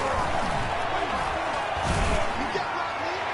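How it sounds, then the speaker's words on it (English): A broad, steady roar of a stadium crowd fills an American football video game, with a faint thump and a mild swell near the middle, while commentary voices talk over it. "this crowd's going to get even louder"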